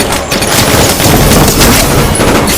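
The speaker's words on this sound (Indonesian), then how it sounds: "tiba-tiba saja Irina dan anak buahnya pun menembaki mereka" Sustained automatic gunfire roars through a shootout in an action film, a dense, loud, continuous fusillade of rapid shots with no pauses and no voices.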